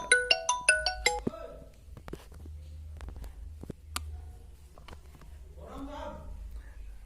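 A mobile phone ringtone trills in a quick repeating melodic pattern for about a second during a chemistry class, then cuts off, followed by quiet room noise and a voice speaking briefly.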